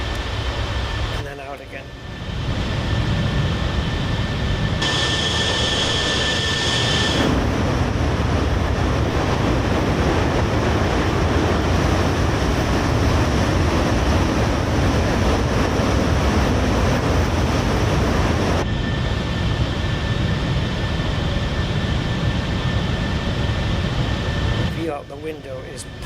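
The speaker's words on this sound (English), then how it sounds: "You can hear the wind buffeting on it now" Wind buffets an aircraft with flaps extended in Microsoft Flight Simulator, a loud steady broadband rush of air with a higher whistling band in the middle stretch, as a person talks briefly over it.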